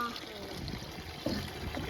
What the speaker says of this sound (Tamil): உள்ள தண்ணி வருது கல் மேல அப்படியே ஸ்ட்ரைட்டா